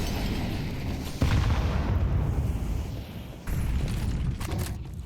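A grenade in the Counter-Strike video game explodes with a loud, deep boom that rumbles for a couple of seconds, followed by another heavy blast.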